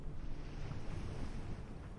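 Ocean waves wash in a soft, steady surf under wind and light rain, a faint continuous rushing with no distinct breakers.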